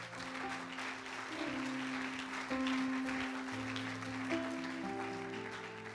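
A church congregation claps together at a worship service, a steady wash of applause sustained throughout, with organ or keyboard chords held underneath.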